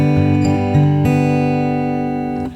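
Acoustic guitar fingerpicking with a thumb, index, thumb, middle pattern played twice per chord, with clear ringing plucked notes at an even pace and bass notes sustaining underneath.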